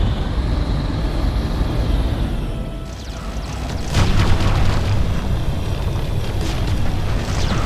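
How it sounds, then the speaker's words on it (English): An enemy Aerodyne aircraft is destroyed in the Ground Control strategy game: a rumbling, roaring blast swells and persists over steady engine-like drone, loud and close, with no speech. "Enemy Aerodyne destroyed."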